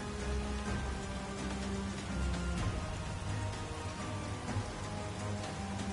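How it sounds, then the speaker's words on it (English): Sudden heavy downpour in the video game Persona 5 Scramble, a steady dense wash of rain hitting surfaces with low rumbling and faint tonal game music underneath, continuous and loud with no speech. "It just started pouring all of a sudden."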